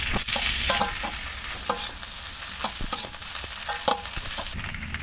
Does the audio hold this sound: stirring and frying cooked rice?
yes